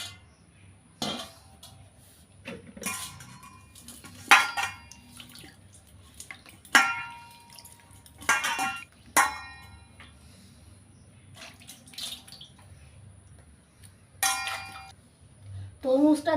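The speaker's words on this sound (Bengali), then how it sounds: "তরমুজটা জল দিয়ে ভালো করে ধুয়ে নিয়েছি।" A whole watermelon being rinsed under water in a kitchen for a summer sharbat: irregular close splashes and trickles broken by sharp knocks and clunks against the basin, arriving in separate bursts with quiet gaps between them.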